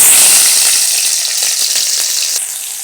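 Cinnamon and a small cardamom sizzle in hot oil for aloo dum, a loud, steady frying hiss that slowly eases over a few seconds with no voices.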